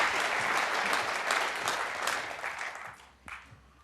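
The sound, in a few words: snooker crowd applauding a key ball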